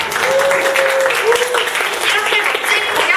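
A school presentation audience breaks into sustained applause after a student performance, a dense wash of clapping heard at moderate distance, with a voice speaking over it.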